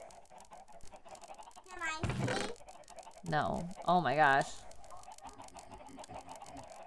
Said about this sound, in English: So, we have this pit of chickens